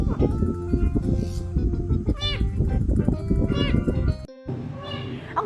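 Cat meowing in a few short, rising calls, mixed under excited studio talk and laughter with background music throughout.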